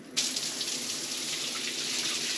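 Tap water gushes into a bushcamp shower fed by a wood-fired donkey boiler, switching on abruptly and then running as a steady, close, broadband hiss with no voices.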